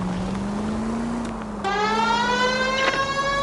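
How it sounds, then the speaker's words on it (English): A police car siren from the L.A. Noire video game wails with a steady droning tone that climbs into a layered, rising whine, loud and continuous over a rumbling engine bed. "The siren."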